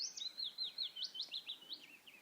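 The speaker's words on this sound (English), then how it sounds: "And some kind of thrush, I think." A thrush sings in a wooded area with small trees and ash, a short run of quick, clear whistled notes rising and falling in a steady rhythm, fairly faint and distant with no talk.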